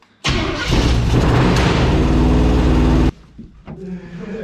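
A project car with a carburetor and a rubbing fuel line is cranked over and catches, a loud rough engine running for about three seconds before cutting out, followed by quieter mechanical noises.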